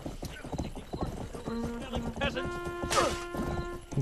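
A horse in the video game Rustler gallops with rapid clip-clopping hoofbeats, then gives a loud, rising whinny, with a crash mixed in and someone talking over part of it.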